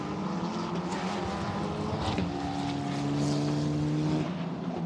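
A Formula Regional European Championship race car at Le Castellet sweeps through the final corner onto the straight during qualifying, its engine a steady, loud buzzing drone with a rising tone and broadband track noise behind it.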